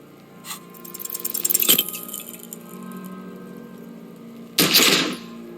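A single loud gunshot in the Disco Elysium video game, a sharp broadband crack near the end, preceded by clinking and rattling game sounds and a steady low ambient hum.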